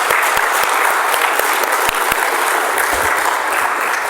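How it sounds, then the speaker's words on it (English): A church congregation claps to welcome children during a service, dense sustained applause filling the room with a few sharper individual claps standing out, no speech over it. "can we just clap to welcome children in our service today?"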